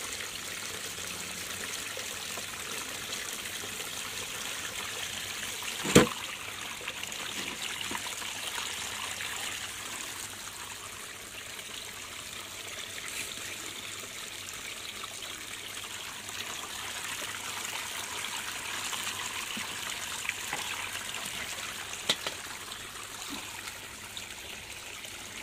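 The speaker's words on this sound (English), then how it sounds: "It's got the electric pump going here." Water flowing from an electric pump on a gold high banker beside a creek, a soft steady trickle and wash with a single sharp knock partway through, faint and continuous with no talk.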